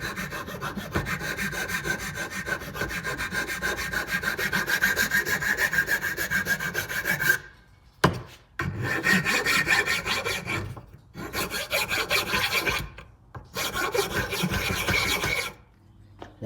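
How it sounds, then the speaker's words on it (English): Repeated rasping strokes of a file scraping the wooden edges of a folding bow, a steady fast rhythm that breaks into shorter bursts with brief pauses, close up. "So now I'm just going to file all these edges down"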